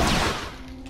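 Gunfire from the video game The Last of Us Remastered on PS4: a loud burst of shots at the start that quickly fades into a reverberant tail.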